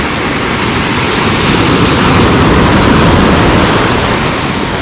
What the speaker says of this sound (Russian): там дальше все красивее и красивее волны